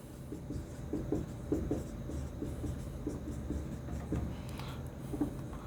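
Marker or chalk strokes on a board while a formula is written for a basic electricity lesson, a steady run of short scratchy taps and rubs at close range with no talk.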